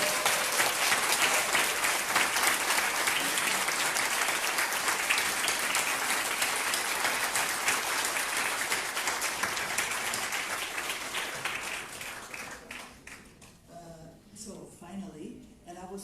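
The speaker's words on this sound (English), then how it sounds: "So please, let's give a really big applause." A large conference audience gives a big, sustained round of applause, dense and loud for about twelve seconds before thinning out, with a voice coming in at the end.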